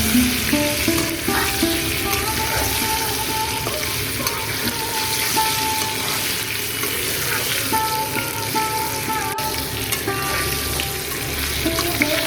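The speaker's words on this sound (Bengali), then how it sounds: "নুন আর হলুদ দিয়ে একটু সময় নিয়ে পটলগুলো খুব সুন্দরভাবে ভেজে নেব।" Pointed gourd (potol) pieces fry in hot oil with salt and turmeric, giving a continuous, dense sizzle close by. Faint scrapes and clinks occasionally rise above it, and a low water-like hiss lies underneath. No talking.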